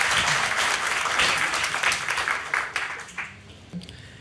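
A live comedy show audience breaks into strong applause. The clapping is dense at first, then thins out and fades into scattered claps near the end.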